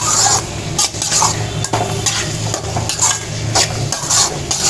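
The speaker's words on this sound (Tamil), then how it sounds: "உருளைக்கிழங்கு போட்டு நல்லா இப்படி கீட்டி விட்டுருங்க" Potatoes being stirred into masala in a pan for egg rice, with repeated scraping strokes of a spoon against the pan over a soft sizzle, close and fairly loud, no talk.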